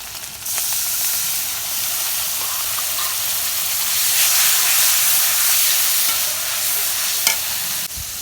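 A small-river-fish curry with potato and eggplant hisses and sizzles steadily in the pan after water is added, a loud, even, steamy crackle with a faint clink near the end and no talk.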